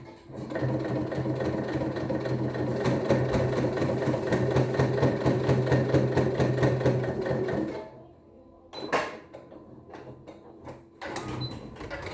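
A sewing machine runs steadily for about eight seconds, stitching a fabric face mask, a close rapid whirring chatter, then stops and is followed by a few handling clicks and rustles.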